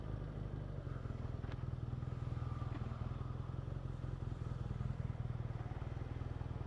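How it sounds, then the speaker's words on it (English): A 2016 BMW R nineT with a boxer engine being ridden, its low rhythmic exhaust thrum pulsing steadily and close under wind noise, with no talk over it. "this is the first boxer powered motorcycle I've ridden"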